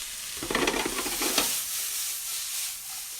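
Sausage and peppers sizzle in a weighted pan, with a burst of stirring and scraping early on that settles into a steady close hiss.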